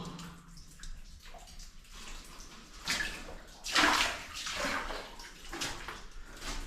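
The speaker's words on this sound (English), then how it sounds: "Water seeping away out of the wall." Water seeping out of a rock wall trickles and gurgles steadily nearby, swelling into a louder rushing splash midway before settling back to a running flow.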